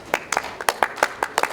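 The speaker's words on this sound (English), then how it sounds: "give them a good round of applause" Audience applause at a public lecture series plenary session, heard as a sparse run of distinct, crisp claps in a fairly even rhythm, close and clear with no talk over them.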